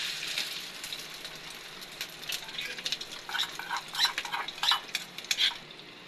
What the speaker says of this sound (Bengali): এখন আম্মু ডিম ভাজবে।